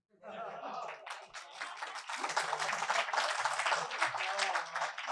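An audience at a Hindi-Urdu poetry recitation breaks into applause, the clapping quickly building and then continuing in a dense, steady round, with a voice speaking over the start.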